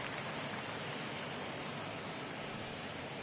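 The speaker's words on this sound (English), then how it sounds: "The rain has been steady, Edgardo but not heavy enough Alfonso." Steady rain falls during a baseball video game, an even, close hiss of raindrops that holds without change and with no voices.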